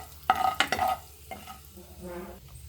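Spoonfuls of cumin and mustard seeds hit hot oil for shavige upittu, giving sharp bursts of sizzling and spattering that fade into a quieter crackle, close and fairly loud.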